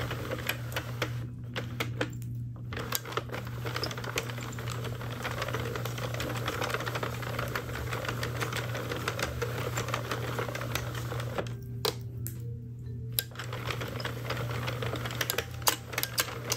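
A Sentro circular knitting machine is cranked continuously, giving a dense rapid clatter of needles with a steady mechanical hum and brief pauses, close and even throughout.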